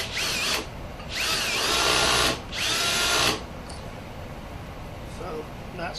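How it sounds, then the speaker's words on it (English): A power drill whines in three bursts, speeding up and biting into metal while drilling clearance holes in a pulley spacer for a Ford engine, then stops, leaving quiet room noise. "So now we're going to drill the clearance holes."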